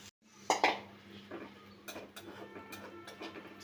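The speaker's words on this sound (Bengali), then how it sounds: "একটু হলুদের গুঁড়া দিয়ে দিলাম এখন আমি ভালো করে মিশাইব" Metal utensil stirring and scraping a vegetable fry seasoned with coriander and turmeric in a pan, a few sharp clinks followed by irregular, softer scraping taps, close up with a faint steady hum beneath.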